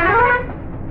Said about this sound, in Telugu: సో నెంబర్ 2 కూడా హార్న్ ఒకసారి మళ్ళీ లోపల నుంచి ఒకసారి విందాం